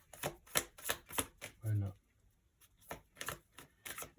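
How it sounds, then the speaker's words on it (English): Twelve tarot cards are shuffled by hand in short, soft riffling bursts while a person talks over them. "It's not easy shuffling with only 12 cards."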